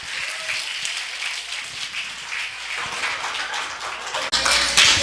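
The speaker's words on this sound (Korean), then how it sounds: "주님께 영광의 박수 올려드립니다" A church congregation at a Korean revival gathering applauds in a continuous, moderately loud wash of clapping, swelling a little louder near the end.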